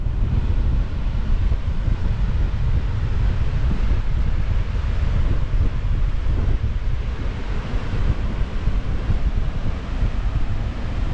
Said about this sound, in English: It's going to be windy as balls, like it is already.